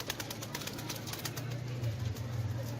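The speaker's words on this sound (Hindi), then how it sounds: "टैडी कबूतर है, आजकल के नहीं, पुराना टैडी" A Teddy pigeon coos low and steady, with a soft rolling call repeating in the foreground against a busy, noisy background.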